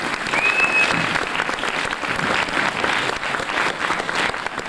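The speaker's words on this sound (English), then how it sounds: "Round of applause," A convention audience applauds Sophie Aldred at Aylcon 1994, a dense, continuous burst of clapping that stays loud and even across the whole stretch.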